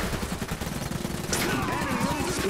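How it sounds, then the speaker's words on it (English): Rapid gunfire crackles through a battle in the strategy game Iron Harvest, dense overlapping shots and bursts that continue throughout, loud and constant, joined by whooshing effects partway through. "We're under fire! Open fire!"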